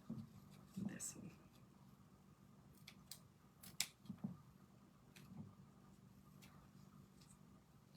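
Scissors snipping something off, a few sharp close clicks and cuts scattered over a quiet background, with a person speaking between them.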